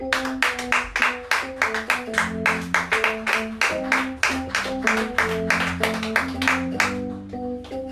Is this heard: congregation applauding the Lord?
yes